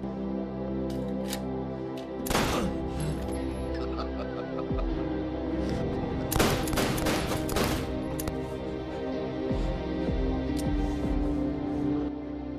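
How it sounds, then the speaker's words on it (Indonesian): Several sharp pistol gunshots in a film crack out in short bursts, one early on and a rapid cluster later, over a steady background hum with no talk. "Tiba-tiba Mikey muncul membawa pistol dan ini yang malah dia lakukan."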